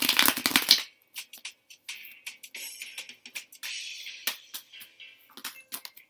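Tarot cards are shuffled close up: a dense riffle at the start, then a run of quieter, irregular card slaps and slides.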